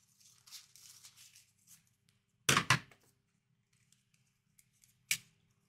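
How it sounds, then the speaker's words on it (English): A laminating sheet is cut with scissors in two quick, sharp snips close by, then one more snip after a pause, with faint handling noise before and between. "I'm going to cut a piece off"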